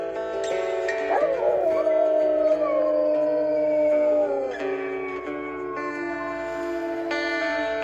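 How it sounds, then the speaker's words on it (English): A long, tonal canine-style howl rises and sustains with wavering pitch, loud and close, layered with a second deeper howling voice and no talk. "She's got a deeper howl."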